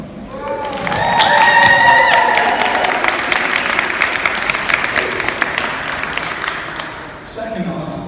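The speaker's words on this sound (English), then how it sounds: "Give everyone a round of applause." An audience claps and cheers after a live exercise-class performance art piece; loud mixed applause swells early, then thins with voices and whoops mixed in before a voice returns near the end.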